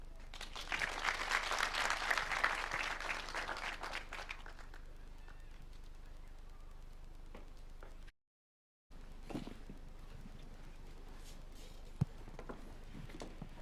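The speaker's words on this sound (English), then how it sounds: "A better hand clap for Judy Njino, please." An audience claps for a few seconds at the Kenya Power Foundation launch, fairly faint and distant, then the applause dies away into quiet room sound with a few scattered taps and a brief gap.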